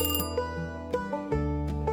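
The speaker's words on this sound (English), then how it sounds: "you wake up abruptly to the sound of a phone ringing" A telephone ringing as a sound effect during a tabletop role-playing one-shot, bright repeating bell tones in quick rhythmic bursts, clear and prominent with no talk over them.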